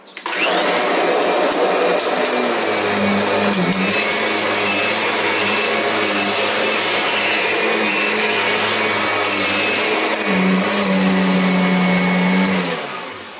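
A heavy Kirby upright vacuum cleaner runs loudly and steadily from start to finish, a constant close motor whine with a slight pitch dip partway through.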